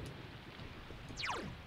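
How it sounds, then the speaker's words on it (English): Steady soft rain ambience from the video game Persona 4 Golden, a faint constant patter with a brief descending chime-like sweep near the end. "It's raining today."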